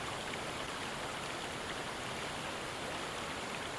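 A steady, full rushing roar of a waterfall plays on without pause, broad and even like falling water, with no voice over it.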